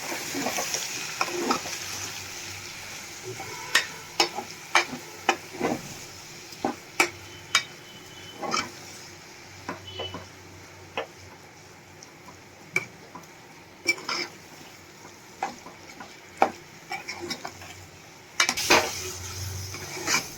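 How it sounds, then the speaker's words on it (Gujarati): A spatula stirs dry potato sabzi with coriander and lemon juice in a pan on a gas stove. Repeated sharp scrapes and clinks of utensil on metal sound over a soft, steady sizzle. "હવે આપણે આ બધું એકદમ સરસ મિક્સ કરી લેશું"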